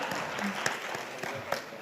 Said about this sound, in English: Ladies and gentlemen, a big round of applause to Rare Rabbit for the breakout